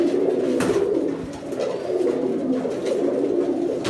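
Pigeons coo continuously in a pigeon farm, a dense low murmuring chorus of many birds close by, steady throughout with no talk.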